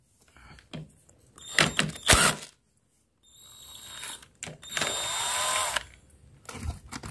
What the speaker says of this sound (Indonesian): oke kita buka ya pakai impact